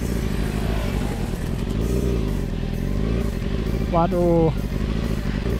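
A Yamaha R6 sport motorcycle engine runs steadily up close, with rising and falling harmonics as it revs, while people talk over it in Indonesian.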